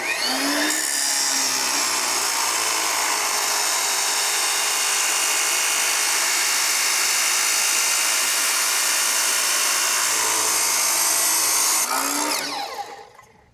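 Power saw with a guarded blade cutting through metal for a Ryobi 48V battery bracket, a loud sustained whining grind that starts abruptly, holds steady for about eleven seconds, then spins down at the end.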